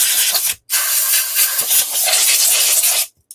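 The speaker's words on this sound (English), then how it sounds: "I personally use an air compressor because I clean so many machines" Compressed air hisses in close, loud blasts while dust is blown out of a vintage sewing machine, with a short gap after the first half second and a cutoff near the end.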